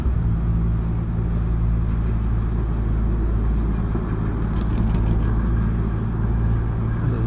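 Inside a tunnel, a car drives on a blown flat tire, heard as a loud, steady low rumble and road roar that carries on with no break and no talk.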